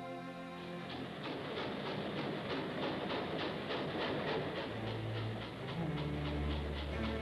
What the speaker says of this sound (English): A thundering train is a moving monument to man's achievement.